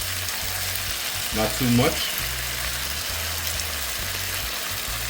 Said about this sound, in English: Now it's time to add our Szechuan sauce.